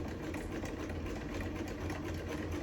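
A sewing machine zigzag-stitches scrap fabric onto a strip for a belly band, giving a steady, continuous mechanical whir and rattle at close range with no breaks.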